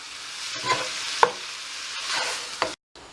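Spiced minced meat frying over high heat for a desi-style lasagne as a spoon stirs it, a close crackling sizzle broken by several sharp scraping clicks and a brief silence near the end.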